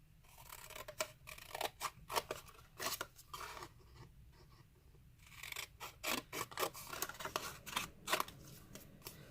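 Scissors snip out a paper tag for a bookmark in a quiet room, a series of short, close crisp cuts and paper rustles arriving in irregular clusters with brief pauses between them.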